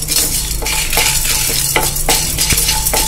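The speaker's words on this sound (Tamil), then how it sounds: "வாசனை வர வரைக்கும் நல்லா வறுத்து விட்டுக்கோங்க." Spices dry-roasting in a pan for neem flower rice, stirred steadily with a utensil that scrapes and clinks against the metal in regular strokes, close and fairly loud, with no voices.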